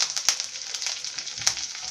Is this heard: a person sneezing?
no